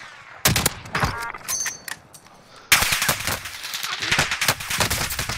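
Rapid automatic gunfire and single shots crack close and loud in a first-person shooter game, bursts coming in dense overlapping strings with brief pauses, then a sustained heavier volley in the second half.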